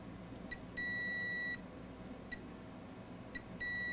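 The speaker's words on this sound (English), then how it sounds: "Let's measure in continuity mode to see if we have a short on those capacitors." A multimeter in continuity mode beeps as its probes touch shorted capacitors on a 2021 MacBook Pro logic board: short ticks and three sustained steady tones, clear and close in a quiet room.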